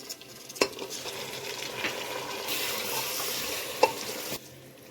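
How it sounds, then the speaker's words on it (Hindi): Mutton browns in a pan with a loud, continuous sizzle, broken by a couple of sharp knocks and scrapes of a spoon as it is stirred. "और अब मटन को अच्छी तरह से भून लेंगे।"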